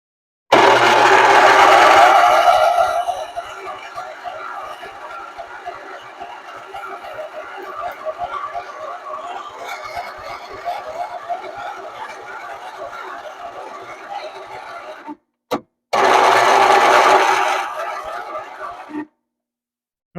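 An old, heavily rusted lawnmower engine with one spark plug removed cranks in two loud bursts, with a fainter raspy churning between them.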